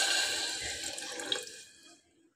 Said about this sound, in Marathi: आपण आता पाणी टाकूया